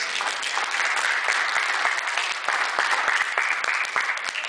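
An audience at a fundraiser show applauds steadily, a dense, bright wash of many hands clapping that holds at an even, loud level throughout with no voices standing out.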